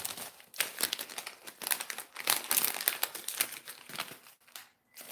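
Tape is pulled and handled during a craft session, a run of close crinkling, crackling and tearing bursts in quick irregular rhythm, ending in a short pause of near silence.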